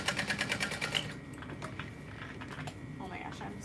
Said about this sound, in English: I'm gonna go up one side and just kind of chain